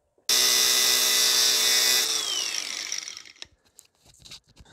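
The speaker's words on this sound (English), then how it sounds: "I'm going to make a cut right in the middle of the bolt" A power tool bites into a stuck bolt on a Mercedes S320 W220, a loud high whine for a few seconds that winds down and trails off into small clicks and handling noises.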